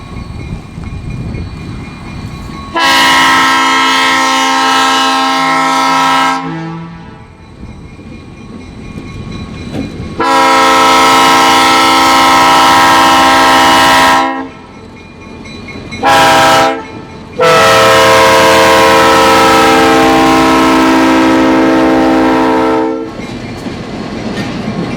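CNW 7009, an EMD SD50 diesel locomotive built in 1985, sounds its horn in three long loud blasts and one short one at a railway museum diesel event, with engine rumble and rail noise between the blasts.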